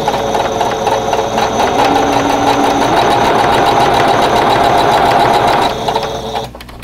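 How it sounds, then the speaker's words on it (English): A sewing machine with a quarter-inch presser foot stitches a quilt block seam, a loud, fast, steady mechanical whir of needle strokes running for several seconds before slowing to a stop. "So we're going to go to the sewing machine next."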